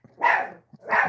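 A dog barks twice, close and loud, two sharp separate barks with a short gap between them and no talking.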